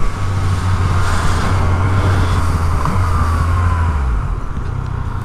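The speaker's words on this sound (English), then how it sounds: "Nice 335, I like that car." A BMW 335 car passes by on the road with a steady, loud engine and tyre rumble that fades near the end, amid general traffic noise.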